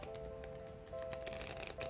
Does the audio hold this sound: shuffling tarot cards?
yes